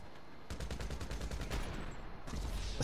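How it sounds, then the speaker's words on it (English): Rapid semi-automatic gunfire from a marksman sniper rifle in GTA V, a fast string of close, sharp cracks followed by a pause and then more shots, with no talk. "You're using the marksman sniper,"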